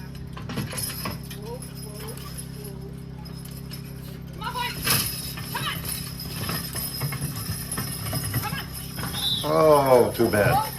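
At a farm-class horse pull, a pair of draft horses, a Suffolk and a Spotted Draft, is hitched to a load. Hooves clop and harness chains jangle under a loudspeaker announcer and crowd chatter, with a horse's whinny near the end.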